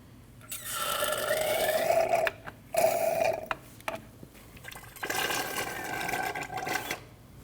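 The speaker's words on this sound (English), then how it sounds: "you want to remove your fluid from your master cylinder" Brake fluid being drawn out of a Subaru Forester master cylinder, heard as a steady mechanical whirring hum in two long stretches separated by a short break and a few clicks, close and moderately loud.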